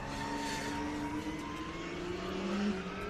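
A drift car with a 1.5J engine passes at a British Drift Championships Pro 2 qualifying round at Teesside, giving a steady loud engine drone with rising and falling pitch and a brief peak as it comes by, with no talking.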